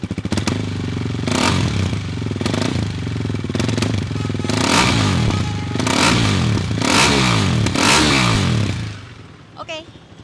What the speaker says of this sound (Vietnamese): Chiếc 401 này thì chiếc 401 này thì đã được bỏ bầu nhưng mà bô sẽ vẫn là bô zin, mình vẫn sẽ mở cho anh em xem nhé